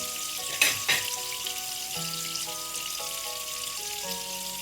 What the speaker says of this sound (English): Frying really well.